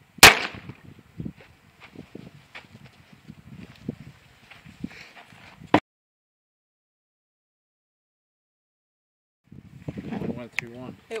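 A sharp .22 Long Rifle pistol shot fired at golf balls cracks at the very start, followed by clicks and rustling handling noises, another brief snap, silence, and faint talking at the end.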